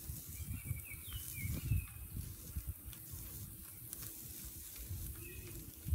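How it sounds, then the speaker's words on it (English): A porterhouse steak sizzles on a grill with a soft, steady crackle and occasional louder pops, fairly quiet and close, with no talking. "so good when you hear the sizzle, baby"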